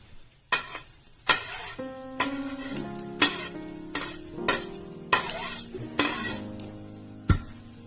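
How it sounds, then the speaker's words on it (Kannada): Chopped boiled egg being stirred into a masala in a frying pan, with a series of distinct scraping and clinking strokes of a utensil against the pan over a low sizzle, close and fairly loud, no talking. "ಆಮೇಲೆ ಕಟ್ ಮಾಡ್ಕೊಂಡಿರೋ ಎಗ್ಗನ್ನು ಇದಕ್ಕೆ ಮಿಕ್ಸ್ ಮಾಡಿಕೊಂಡು ಕಲಿಸ್ಕೋಬೇಕು"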